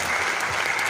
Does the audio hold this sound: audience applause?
yes